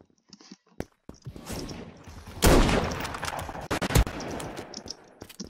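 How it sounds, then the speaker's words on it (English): Rocket launcher and other weapons firing in the online shooter game Krunker.io, a burst of loud explosive blasts with sharp shots and footsteps around them. "Yo, why is he using a rocket launcher?"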